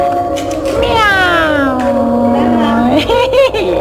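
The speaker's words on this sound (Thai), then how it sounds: "อุ้ยแมวไม่ใช่เสือ" A cat meows in a long, drawn-out wail that bends down in pitch, followed by a shorter meow, close and loud, with some voices in the background, at Wat Khao Chong Phatthanaram temple in Kanchanaburi, Thailand.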